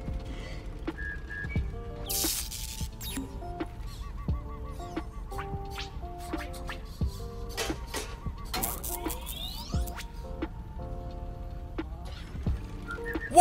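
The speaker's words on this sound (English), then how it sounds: "Whistling." A character in the video game Grounded whistles a short stepped tune of clear tones, mixed with scattered clicks, taps and honk-like game effects.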